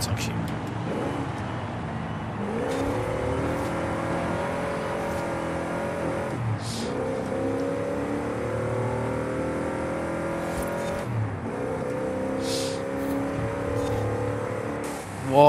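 A Plymouth Belvedere engine drones steadily in a racing video game, a sustained, loud mid-pitched roar with shifting harmonics as the car drives through a challenging curve, with brief gear-change dips along the way.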